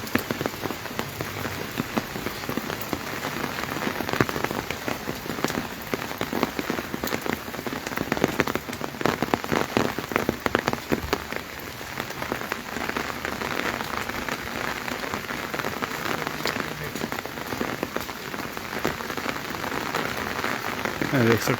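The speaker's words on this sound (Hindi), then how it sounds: "झमाझम बारिश का दौर चलता हुआ, काफ़ी तेज़ बारिश जो है सुबह 4-5 बजे से ही राजधानी में हो रही है।" Heavy monsoon downpour in Shimla in the early morning, falling over an open ground: a dense, steady hiss of rain striking surfaces, loud and unbroken throughout.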